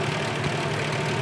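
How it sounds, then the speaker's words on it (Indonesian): The engine of a 1980 Toyota Land Cruiser FJ40 idles steadily and smoothly, a close, continuous low rumble with no voices. "sama-sama kita dengarkan suara mesinnya"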